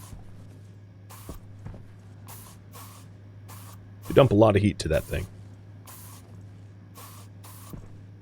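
Spray painting pipes in the Stationeers video game, a series of short sharp hissing spray bursts spread across the span, with someone talking briefly in the middle over a constant low hum.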